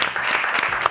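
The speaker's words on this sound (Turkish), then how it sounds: "Onları da bir alkışlayalım lütfen." Studio audience applauding contestants on the Turkish word-game show Kelime Oyunu, a brief, loud burst of close, dense clapping with no pause.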